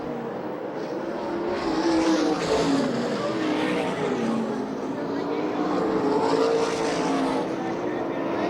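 USAC National and CRA sprint cars racing in a heat race at Manzanita Speedway in Phoenix, engines droning loudly and steadily with rising and falling pitch as cars pass, under continuous commentary.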